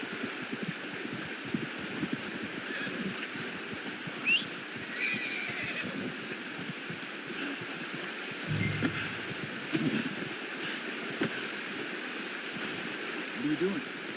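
A horse in the video game Red Dead Redemption 2 whinnies faintly over a constant rushing ambience like flowing water, with a few muffled thumps. A voice talks over parts of it.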